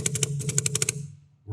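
Empire Mini GS paintball marker cycling after a repair, firing a quick run of about a dozen sharp mechanical cracks in steady rhythm, close and clear, then going quiet.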